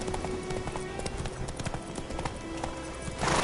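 A horse's hooves clip-clop steadily at a trot in a video game, continuous and fairly loud over a background of game sound, with a brief swell of noise at the end.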